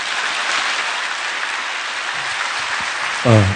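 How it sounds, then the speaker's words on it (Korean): A church congregation at a Friday worship service applauds to welcome the pastor, a thick, even roar of clapping that holds steady, and a voice briefly cuts in at the very end. "우리 감사의 박수로 우리 환영하는 박수로 맞이하겠습니다."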